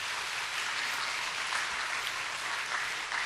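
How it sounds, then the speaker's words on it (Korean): A church congregation applauds in encouragement, a steady dense wash of many hands clapping at once, loud and unbroken throughout, with no talk on top. "우리 다시 한번 격려의 박수를"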